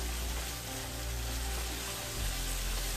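Spice masala roasting in a pan for Rajasthani gatte ki sabzi gives a steady, dense frying sizzle that holds throughout, close and fairly loud, with no talk.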